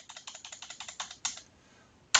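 Quick bursts of keystrokes on a computer keyboard, about a dozen close, crisp clicks in an even run, then a pause and one final sharp tap.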